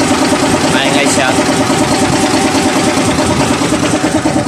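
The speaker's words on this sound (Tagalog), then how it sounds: "Pansin nyo, maingay yung makina. Yan, maingay siya." An SDLG wheel loader's diesel engine runs loudly with a constant rough, rattling drone and a knocking fault, close by and unbroken throughout.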